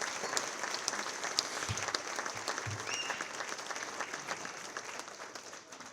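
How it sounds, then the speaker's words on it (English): An audience at an award ball gives sustained applause, many hands clapping densely and evenly before the sound gradually thins and fades toward the end. "Please, let's give them a round of applause."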